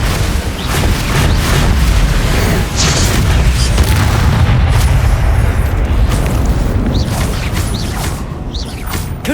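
A Confringo blasting curse explodes in Hogwarts Legacy, giving a long, heavy rumbling boom with whooshing debris that holds loud for several seconds before easing slightly toward the end.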